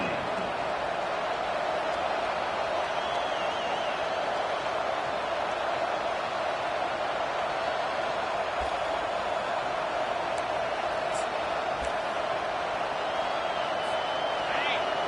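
A roaring college football stadium crowd backing the home defense on third down, a steady dense wall of cheering and yelling throughout with a few sharp claps, while a commentator talks over it.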